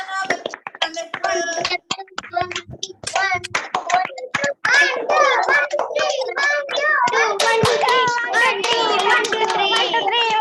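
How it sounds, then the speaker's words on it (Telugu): Children clap for a girl named Sindhu in a Sunday children's club gathering, sharp irregular hand claps mixed with children's chatter and an adult voice speaking throughout. "సో కిందకు కూడా మనం క్లాప్స్ ఇద్దామా సింధు కోసం?"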